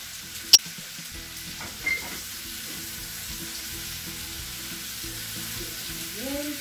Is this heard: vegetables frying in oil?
yes